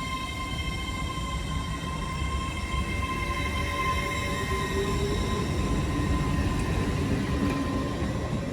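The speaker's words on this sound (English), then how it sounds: "Departing out now is the 13:03 Great Western Railway service from London Paddington to Swansea." A Great Western Railway train pulls out of Bristol Parkway station, a steady rumbling roar with sustained whine and squealing tones, fairly close and continuous throughout.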